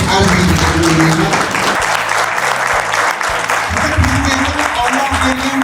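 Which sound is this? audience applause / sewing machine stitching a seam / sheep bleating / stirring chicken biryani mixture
audience applause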